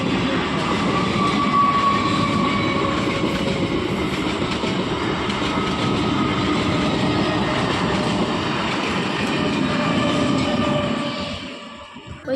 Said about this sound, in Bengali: ওই যে ট্রেন চলে গেছে,